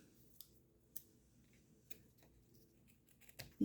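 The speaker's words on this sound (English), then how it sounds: "these are not my ribbon scissors, so that didn't cut so well" Ordinary scissors, not made for ribbon, snip through ribbon in several quiet, sharp clicks spread across the moment, each a brief isolated cut against near silence, cutting poorly.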